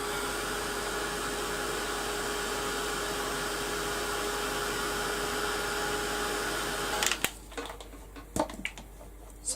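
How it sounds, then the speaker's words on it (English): Heat gun blowing steadily for heat embossing a card, a loud continuous hot-air roar that cuts off near the end, leaving a few faint knocks and handling sounds. "Always make sure your heat gun is hot before you go onto your embossing"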